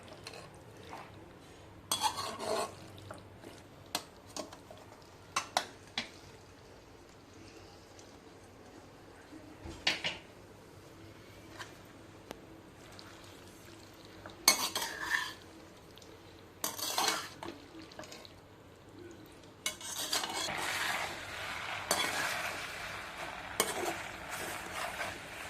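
Boiled pasta being stirred together with sauce and vegetables in a pan: scattered metallic clinks and scrapes of a utensil against the cookware, quiet at first, turning into a denser stirring rustle near the end.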